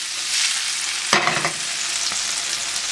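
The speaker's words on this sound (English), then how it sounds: "Let it start to brown on all sides as best we can." Tofu cubes browning in an oiled frying pan for dan dan noodles, giving a loud, dense, continuous hiss of sizzling with one sharper scrape or jostle partway through, close and without talk.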